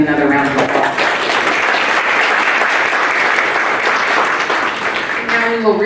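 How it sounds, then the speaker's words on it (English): Sustained round of applause from an audience at a chamber of commerce candidate forum, a dense, even wash of clapping that holds throughout. "Please give each candidate another round of applause."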